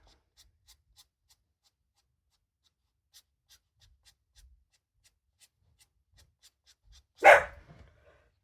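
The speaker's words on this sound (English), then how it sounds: "This is my dog, meet Shen." A single sharp dog bark close by, loud against near silence broken only by faint scratching and tapping sounds beforehand.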